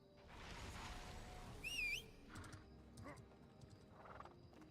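A horse in the video game Ashes of Creation gives a loud rising neigh in the middle of a muddy, noisy game soundscape, with soft hoof clops and faint ambient tones around it.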